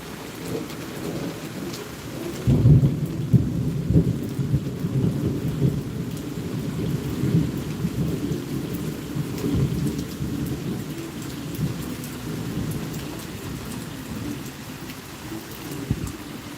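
A Florida thunderstorm at a lakeside park brings steady rain pattering on surfaces and deep rolling thunder that booms early, then rumbles on, with no talking.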